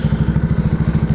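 Motorcycle engine idling nearby, a 250Z, with a steady loud low chugging pulse and rhythmic exhaust thumps throughout.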